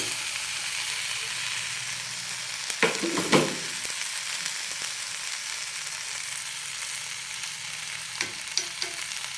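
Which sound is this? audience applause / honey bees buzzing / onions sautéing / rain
onions sautéing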